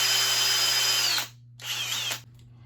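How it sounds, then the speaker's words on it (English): A power drill driving screws while a 7-drawer cabinet is assembled: a long whirring burst, a short pause, then a second shorter burst, close and loud, with no talk. "let's go ahead and whip out the hammer and power tools"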